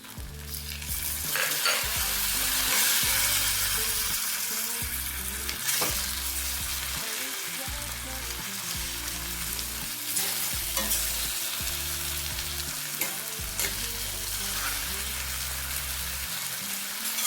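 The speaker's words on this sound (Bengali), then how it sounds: "এবার এতে আমি টমেটোগুলো দিয়ে দিই।" Tomatoes sizzle and fry in a pan with ginger, stirred steadily so the scraping and hiss pulse in a continuous rhythm, close and fairly loud with no talking.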